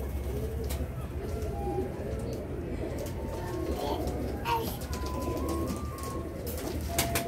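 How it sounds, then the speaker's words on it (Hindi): Soft pigeon coos repeat over a steady low rumble of background noise, with faint chatter and movement nearby. "इनके करीब जाते हैं तो ये थोड़ा सा डरते हैं कबूतर"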